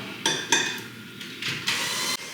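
An electric hand mixer runs on high through chocolate cake batter made from a boxed mix with oil, whirring in bursts that start and stop as it works the bowl, with no talking.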